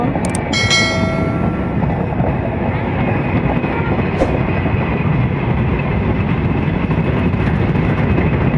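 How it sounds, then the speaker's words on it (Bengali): Madhumati Express passenger train departing Dhaka for Rajshahi, a steady loud rumble of rolling wagons throughout with a brief bell-like ring near the start and a faint high screech midway. "রাজশাহীর উদ্দেশ্যে বের হয়ে যে গেল ঢাকা থেকে মধুমতি এক্সপ্রেস ট্রেন"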